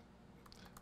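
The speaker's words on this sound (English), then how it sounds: "I'm just typing." A few soft, faint keystrokes on a computer keyboard, quick clicks that come close together near the end over a low background hum.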